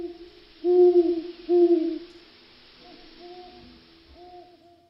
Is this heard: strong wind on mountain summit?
no